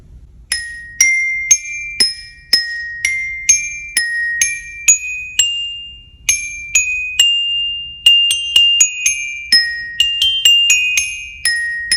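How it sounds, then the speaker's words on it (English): Bright bell tones struck with mallets ring one after another in a steady melodic rhythm, each note sustaining and decaying cleanly. "The bells use mallets to play, and they sound like this."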